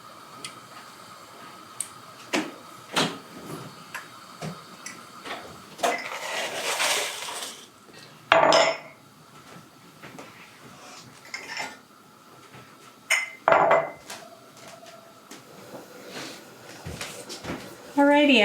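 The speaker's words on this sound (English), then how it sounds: "my jars just got done, so we're about to head over now behind me and get those jars packed" Glass canning jars are handled and clink together after processing for dill pickles, giving scattered sharp clinks and taps at close range, some louder clusters, amid general kitchen handling noise.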